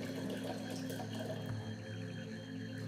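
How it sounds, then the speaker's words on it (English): Filtered water runs into a container being filled to the top, a quiet, steady trickling flow that continues throughout with faint gurgles and no speech. "I'm going to fill this all the way to the top of water."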